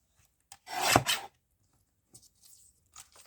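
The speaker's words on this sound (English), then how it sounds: "It needs a trim along the edge there" A paper trimmer slicing along the edge of a dictionary page: one close, rasping cut of about half a second, followed by faint paper handling in a quiet room.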